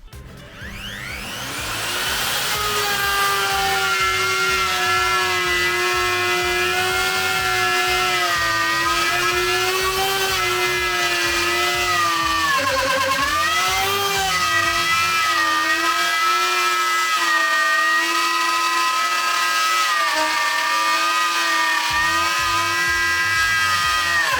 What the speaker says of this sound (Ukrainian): тепер давайте по максимуму занурю і дам максимальні оберти